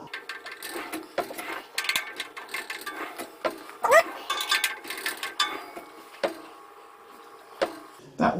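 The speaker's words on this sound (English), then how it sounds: "Keep screwing it in." A screw being turned by hand into a B&Q pull-out storage unit, giving close, irregular clicking and ratcheting with small metallic ticks, brief pauses and occasional louder knocks.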